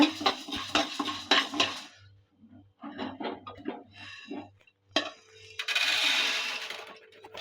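Fried urad dal scraped from a pan onto a plate, giving close metallic clinks and scraping taps in quick bursts, then a short sizzling hiss at the end.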